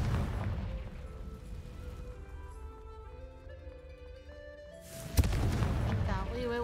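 A Confringo fire spell detonates in Hogwarts Legacy: one sudden, loud blast near the end, breaking over steady game music and ambience.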